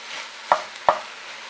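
A big wooden spoon knocking against a pan as it breaks up and stirs food, two sharp close taps about a third of a second apart over a faint background hiss.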